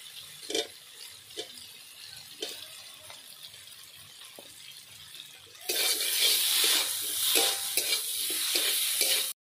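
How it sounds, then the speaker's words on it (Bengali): Fried potatoes go into a pan of well-cooked masala for aloo chop curry, with faint stirring and scraping at first, then a sudden loud, broad sizzle that continues strongly to the end. "এবার আমি ভেজে রাখা আলুগুলো দিয়ে দিচ্ছি।"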